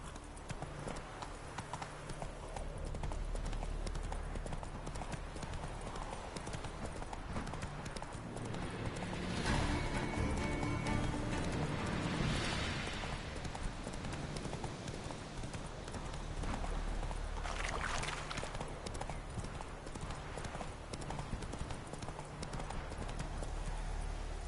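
Roach the horse gallops in The Witcher video game, hooves pounding in a fast, continuous clip-clop rhythm, loud and close, with occasional swells of wind-like noise.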